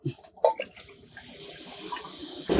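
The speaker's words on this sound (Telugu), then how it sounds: "పప్పు కోసము నేను ముందు కుండ పెట్టుకొని నీళ్ళు పోసుకుంటున్నా" Water poured into a clay pot for making tomato dal, a short gush of running water that swells into a steady splashing flow after a few brief knocks and clinks, close by.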